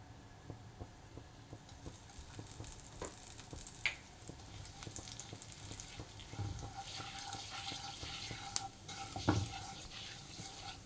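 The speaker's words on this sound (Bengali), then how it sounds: "জিরেটা তেলের উপর দিয়ে দেবো।" Whole cumin seeds crackle and sizzle in hot oil in a home kitchen pan, a faint continuous frying hiss dotted with small pops and clicks.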